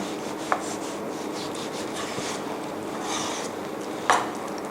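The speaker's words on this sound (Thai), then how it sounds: "จากนั้นนะคะหั่นเนื้อหมูนะคะ" A knife slices through pork on a board with soft, continuous rubbing strokes and two sharper taps, close and quiet.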